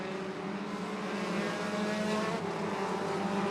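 Stock cars and sport cars racing together at Irwindale Speedway, a continuous loud roar of several engines blending into a steady droning wail with a slight rise and fall as they pass, no talk.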